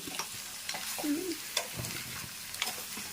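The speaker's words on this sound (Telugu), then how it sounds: "ఆయిల్లో ఒకసారి కలుపుదాము" Vegetables with chicken masala powder are stirred in oil in a pan, giving a quiet sizzle with scattered spatula scrapes and taps and a brief squeaky tone in the middle.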